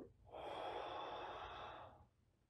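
A single soft exhale during a hand exercise, a breathy out-breath of about two seconds, close and quiet in an otherwise still room.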